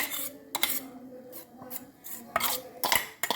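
Cooked ground chicken, potato and onion mixed by hand or spoon in a bowl, a few close scraping and rubbing strokes with soft clinks, intermittent and fairly quiet, no talking.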